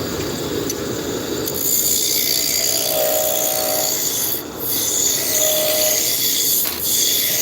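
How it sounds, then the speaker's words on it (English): Wooden furniture parts being sanded produce a close, steady abrasive rasp that runs continuously, with two brief dips where the sanding pauses before resuming. "and then after this they're sanding."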